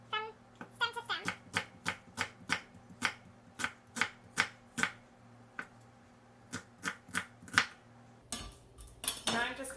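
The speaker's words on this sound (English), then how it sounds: "Remove the outside of the onion. And then cut from stem to stem." A kitchen knife chops through an onion on a cutting board for French onion soup, a run of crisp, evenly spaced knocks close up, pausing briefly before a last clatter and a voice at the end.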